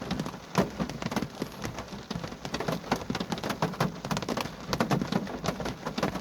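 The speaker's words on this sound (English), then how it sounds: "I can't tell if the rain's getting harder or what." Rain falls steadily at a graveyard at night, a dense patter of drops on surfaces with scattered sharper splats, continuous and fairly close, with no talking.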